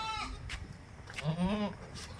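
Two or three short bleats from dairy goats close by, wavering and nasal, with faint background noise and no talk.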